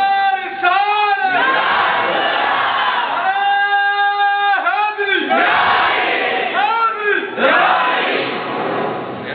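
A large crowd at a Milad-un-Nabi gathering shouts a slogan in unison in response to a Nara-e-Takbir call, with a leader's sustained call followed by loud massed chanted replies, repeated several times.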